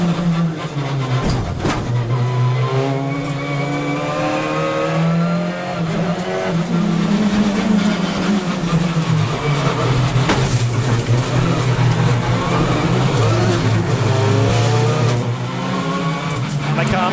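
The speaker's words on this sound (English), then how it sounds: "Shedden is back on the racetrack" Touring race cars of the British Touring Car Championship race at Knockhill, with engines roaring and shifting pitch as they pass close by, continuous and loud, under steady commentary.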